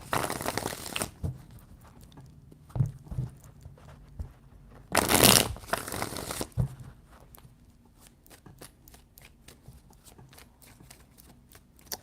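Tarot cards shuffled close by, with a loud riffle at the start and another burst midway, between them soft scattered taps and flicks of the cards being handled.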